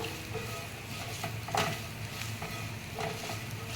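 Potatoes being stirred in a pan with chaat masala, for Kashmiri aloo dum, give a steady low sizzle with soft scraping strokes and a few louder clinks of the spoon against the pan.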